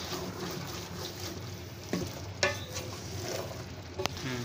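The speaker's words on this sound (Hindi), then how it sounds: "इसको 2 से 3 मिनट के लिए हम अच्छी तरह भून लेंगे, चम्मच चलाते रहेंगे इस तरीके से।" Chicken and chickpeas fry in a pot for a Lahori murgh chanay dish while a spoon stirs them, giving a steady close sizzle with a few sharp scrapes and clinks against the pot.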